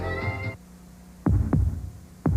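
Heartbeat sound effect from a 1988 Chevrolet television commercial: three loud, close, low thumps spaced about a second apart, following a brief musical tone from the preceding ad.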